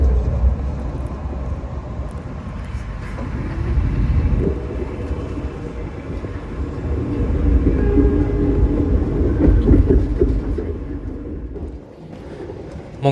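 A Manahan Tambahan passenger train nears Yogyakarta, its steady rumble and rail noise swelling and easing over several seconds before quieting toward the end.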